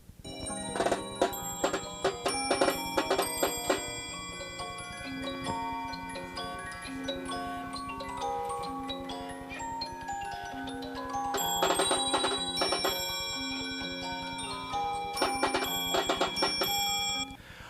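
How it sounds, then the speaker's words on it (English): A Swiss music box with bells and drums plays a bright, steady tune in a museum, chiming bell tones over soft percussive ticks, loud and close throughout with no talking. "I'd like to play for you, before we move on to the next exhibit, our Swiss music box, which has bells and drums,"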